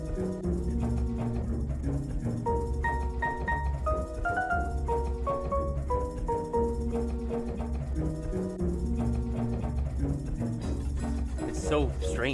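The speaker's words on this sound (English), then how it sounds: "almost sounds like somebody's denting and undenting a can" A busy video game song with steady beat, bass and melody, carrying an odd metallic crinkling effect like a can being dented and popped back out, woven continuously through the mix.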